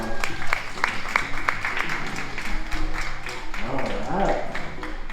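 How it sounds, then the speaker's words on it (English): A crowd applauds at a sea lion show, scattered claps rising into a fuller round while a presenter keeps talking over it. "Give her a round of applause."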